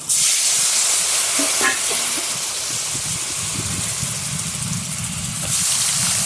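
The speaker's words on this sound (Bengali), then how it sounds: "মশলাটা কষা হয়ে গেছে এবার পরিমাণ মতন জল দিয়ে দেবো" Water is poured onto a hot fried spice paste in a pan and sets off a loud, steady sizzling hiss that fades slightly over a few seconds, with no talk.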